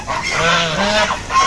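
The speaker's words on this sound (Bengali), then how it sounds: "এই যে রাজহাঁসগুলোকে আগে ছেড়ে দিলাম, প্রায় সবাই বের হয়ে গেছে" Domestic geese honk as they are let out of their pen, giving several loud, nasal calls close by in quick, overlapping succession.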